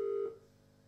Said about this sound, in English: I can make some phone calls